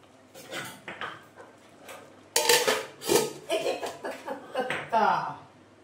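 A lid is set over a pot of basanti pulao on low heat, giving a few sharp metallic clanks amid other close kitchen clatter.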